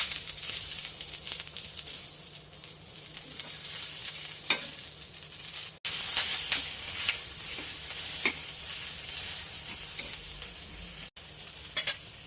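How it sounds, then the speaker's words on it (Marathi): Onion fries in hot oil with a bright, continuous sizzle and hiss, close up, broken by occasional stirring scrapes and brief pauses. "कांदा भाजून घेऊया."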